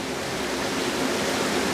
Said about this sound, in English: What's interesting is as I turn this off, and I turn this big one off, the rest of the jets are getting more powerful.